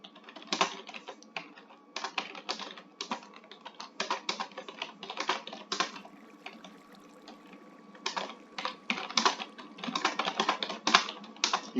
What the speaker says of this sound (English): Here with the very loud keyboard.